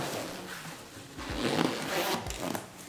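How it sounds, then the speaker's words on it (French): A zipper is drawn open along the canopy of a Looping Squizz 3 stroller, producing a few close, raspy zipping strokes with short pauses between them and no speech over them. "Avec la fermeture éclair."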